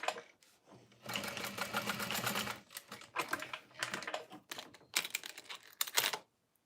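A sewing machine top-stitches a connector on a fold-over bag, running in rapid mechanical bursts of varying length separated by short pauses, close and clear with no speech.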